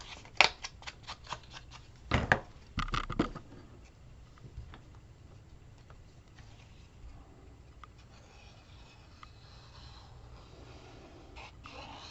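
Scissors snipping paper for a Graphic 45 card kit, a quick burst of crisp cuts near the start and then a few louder sliding snips, after which it goes to quiet room noise.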